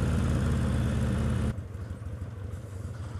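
A modified motorcycle engine drones loudly and steadily while riding, then the tone drops abruptly to a lower, rougher rumble, heard up close.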